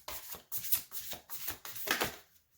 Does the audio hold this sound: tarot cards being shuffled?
yes